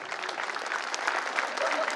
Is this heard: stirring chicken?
no